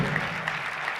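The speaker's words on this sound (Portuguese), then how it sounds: "Uma salva de palmas" Audience applause at a business talk event on entrepreneurship, a steady wash of clapping filling the whole short moment with no break.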